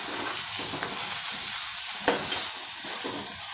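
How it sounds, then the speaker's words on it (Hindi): Spiced chickpeas roast in a hot pan while being pressed down, a steady loud sizzle with scraping and stirring noises and one sharper knock partway through. "थोड़ा भुनने के बाद ऐसा थोड़ा प्रेस कीजिए तो चने के अंदर ग्रेवी अंदर चला जाता है"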